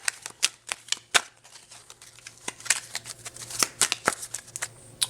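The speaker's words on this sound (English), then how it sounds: "Let me get some more cards here." Tarot cards are shuffled up close in quick, irregular riffling and slapping bursts, crisp papery snaps repeating throughout with no talk.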